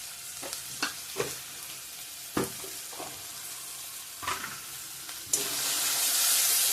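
Chopped tomato frying with ginger in a pan: spoon taps and scrapes come at intervals over a soft sizzle, then a loud, steady hiss of frying swells near the end.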